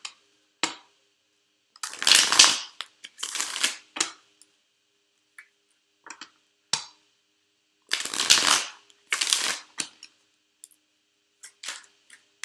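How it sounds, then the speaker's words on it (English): Oracle cards shuffled by hand: close, crisp riffling bursts come in several separate rounds, each followed by quieter taps and flicks of the deck, with silence between them and no talk. "I'll pull some of my oracle cards for you guys."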